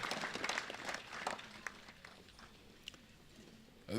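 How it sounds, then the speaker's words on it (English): Faint, distant applause from a crowd at the inauguration of the Gambia International Airlines cargo facility at Banjul International Airport, densest at first and then thinning into quiet. "put your hands together, thunderstorm, for a loud applause for GIA"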